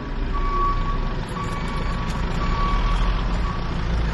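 A truck backs up while returning a borrowed trailer on a farm, its reversing alarm beeping in a steady repeating pattern over a loud, close diesel engine rumble.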